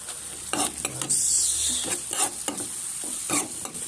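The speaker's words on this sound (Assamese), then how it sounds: "বিলাহীটো অলপ এনেকৈ ভাজি ল'ম" Tomato sizzles steadily in a hot pan with cumin while a utensil scrapes and stirs in repeated strokes, close up.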